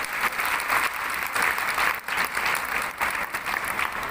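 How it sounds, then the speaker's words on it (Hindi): An audience claps continuously, a dense, steady wash of applause that swells and dips slightly over a few seconds. "मैं आपका जोरदार तालियों से समर्थन चाहूँगी"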